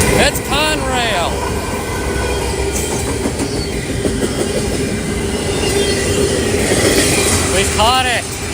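Conrail locomotive 8098 passing at dusk, with a loud, steady rumble and rolling wheel noise throughout, and horn-like tonal sweeps near the start and end.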